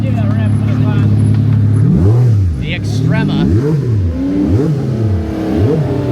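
A Ferrari F80 hybrid supercar revs hard, its exhaust climbing and dropping in several loud sweeping pulls close by. Someone talks briefly over the engine.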